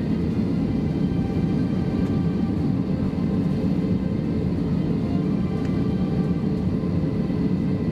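An Airblue Airbus A321 airliner on its takeoff roll at Lahore gives off a broad, steady engine roar and rumble, loud and continuous throughout with no voices.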